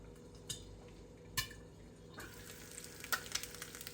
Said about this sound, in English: we got an egg cooking